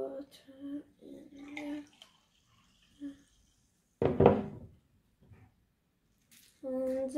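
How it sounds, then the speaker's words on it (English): Water poured into a SodaStream bottle, heard as several short splashing, gurgling bursts with a rising hollow ring inside the bottle, separated by quiet gaps, close by and fairly soft. "And then pour the water in"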